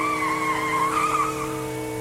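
Tires squeal loudly as a car skids through a U-turn, a wavering high screech lasting about two seconds over a steady engine tone, with no other sounds.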